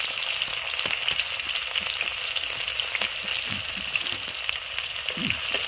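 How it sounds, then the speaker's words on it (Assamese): Onions fry in hot oil in a wok, giving a steady, close sizzle with occasional soft scrapes as they are stirred, and no talking. "পিঁয়াজ দি ধুনীয়াকৈ লৰাই দিছে"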